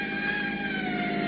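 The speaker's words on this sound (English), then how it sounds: "Sounds like a siren." A siren wails steadily in the distance for just over a second, its tone holding and sliding slightly against a low mechanical drone, with no voices over it.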